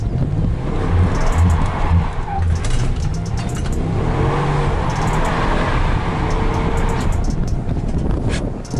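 A Ram prerunner truck built for Baja runs with its engine rumbling continuously, a loud low drone mixed with road and wind noise, close to the microphone.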